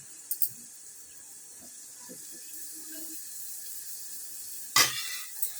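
Egg fry mixture sizzles softly in a pan with a steady hiss, while occasional scrapes and knocks of stirring come through, one louder clatter near the end.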